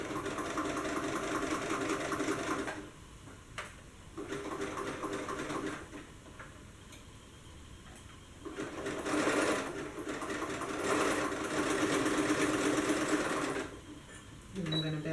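A sewing machine zigzag stitches a dance crop top in loud, close bursts, running for about three seconds, pausing, then running again in several longer stretches with brief stops for backstitching, while a person talks between and over the runs.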